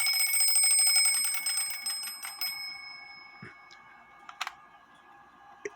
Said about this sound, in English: I'm going to make the alarm go off so you can hear it. Hits that bell there